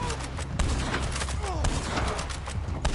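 Gunfire in the video game Red Dead Online during a wave fight, a steady patter of sharp shots at moderate distance over low rumbling background noise.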